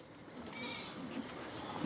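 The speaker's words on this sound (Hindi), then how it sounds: "ये सबसे ऊंचे फ्रेम की बकरी है।" A goat on a Sirohi and Ajmeri goat farm gives a few short, moderately loud bleats over steady outdoor background noise.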